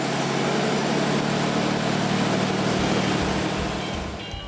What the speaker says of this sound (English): always fire her up just to make sure she sounds as good as she looks